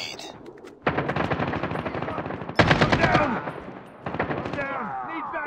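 Rapid automatic gunfire from a Call of Duty Mobile multiplayer match, loud close bursts of machine-gun fire that come in several long volleys with brief pauses between them.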